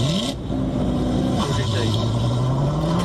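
A Corvette engine revs hard, the pitch climbing, dropping back and rising again through gear changes over a few seconds, loud and close with a steady roar underneath.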